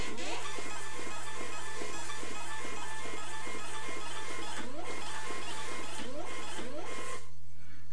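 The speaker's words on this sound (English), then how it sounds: "printed all 26 labels on a Dymo printer" A Dymo label printer prints labels, a rapid repeating mechanical chatter of feed and print cycles over a steady low hum, stopping just before the end.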